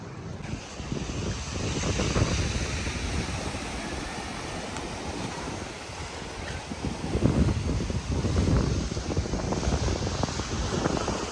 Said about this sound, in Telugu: ఇదంతా రాక్ బీచ్.